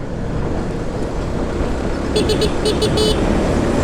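A car travels along a road trying to overtake a long truck, a steady broad road and engine rumble filling the clip, with a few short horn toots near the end.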